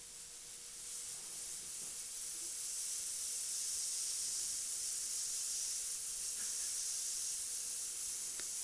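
An airbrush sprays black and grey paint onto a motorcycle saddlebag, a soft, steady hiss that holds almost unbroken for several seconds after a quieter start.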